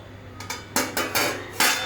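Dishes being washed in a bowl, with several sharp clinks and clatters of utensils against metal in an uneven rhythm, close and fairly loud.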